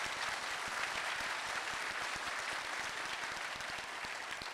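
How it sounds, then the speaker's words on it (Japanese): Steady, dense applause from an audience at a live political talk event in Yurakucho, Tokyo, continuing evenly throughout without voices standing out. "あのみんなの拍手、心からの拍手なんで僕嬉しいんですけど"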